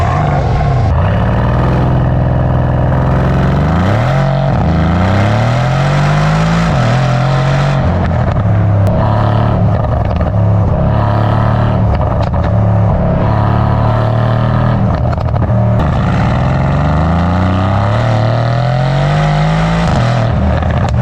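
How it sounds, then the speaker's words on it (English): A powerful sports car engine with a quad exhaust revs repeatedly, deep exhaust roaring up and down in pitch, loud and close, with no talking. "let's listen to what those exhausts sound like."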